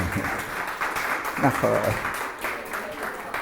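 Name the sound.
applause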